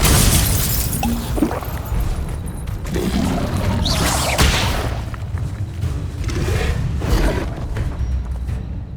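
A Confringo spell explosion in Hogwarts Legacy bursts amid a dense, continuous wash of booming blasts and crackling impacts from spell combat, with no talking.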